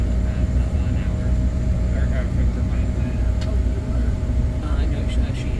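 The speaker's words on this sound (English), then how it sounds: "You can see a Frontier plane taxiing right here." Aircraft engines hum steadily while a plane taxis at Cleveland airport, a constant loud rumble heard from inside the cabin, with people talking softly underneath.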